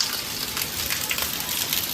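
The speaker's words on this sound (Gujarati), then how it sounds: "હમણાં વરસાદ આવ્યો ને તો પાણી એટલો બધો થઈ ગયો" Heavy rain pours steadily in Balagam, Ghed area, a dense, even hiss of water on surfaces filling the whole stretch with no pauses, fairly loud and close.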